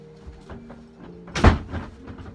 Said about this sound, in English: Door moved open.